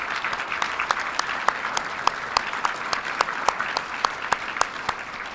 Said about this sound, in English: Let's give a round of applause to both the band and our soldiers for what they do for us.